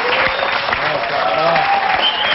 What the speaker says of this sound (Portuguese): Palmas para os amigos.